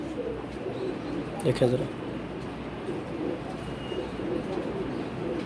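Pigeons coo in soft, low repeated calls at a pigeon show while someone talks over them, with a brief louder burst of sound near the middle.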